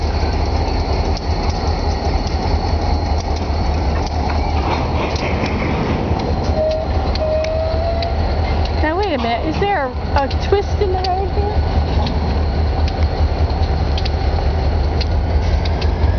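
A train passing through the Berkshire Hills rumbles steadily and loudly with rolling wheel noise, a few squeals and clanks standing out midway, while people talk over it.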